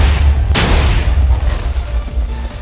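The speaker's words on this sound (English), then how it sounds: "that is what a 256 block tall TNT explosion looks like" Booming TNT blasts from a 256-block-tall column in Minecraft rumble continuously, with a sharp loud burst early on and further deep explosions rolling on, close and heavy, with no speech.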